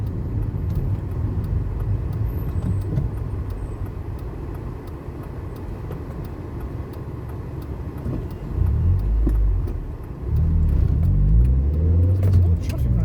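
A car drives through road traffic in Wales, between Barry and Llanharan, with a steady low cabin rumble of engine and tires and a louder surge of passing or accelerating traffic near the end.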